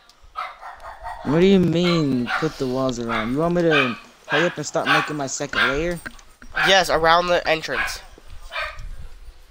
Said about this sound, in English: If you hear the dogs in the background, ignore those stupid dogs.